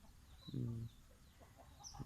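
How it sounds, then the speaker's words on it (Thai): Village chickens cluck softly outside a rural home in the early morning, a couple of short low clucks standing out from a quiet, faint outdoor background. "บรรยากาศบานๆ ยามมื้อเช้า ก็จะมีเสียงไก่"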